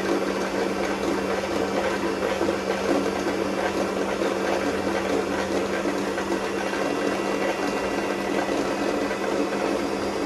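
A sewing machine running steadily while winding bobbins, a continuous even motor whir and hum lasting throughout, close and fairly loud with no talking.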